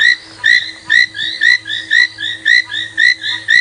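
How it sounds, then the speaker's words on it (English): An ornate frog calls in a rapid, regular series of about a dozen bright, clipped notes, loud and close, repeating steadily with a soft low hum underneath. "There's an ornate frog calling, which is a very pretty frog."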